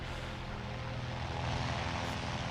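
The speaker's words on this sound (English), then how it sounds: "Let's stick around and see if this Soviet plane can make it home." A Soviet propeller plane flies in a naval combat video game, its engine a steady droning hum under a broad rush of noise, constant throughout.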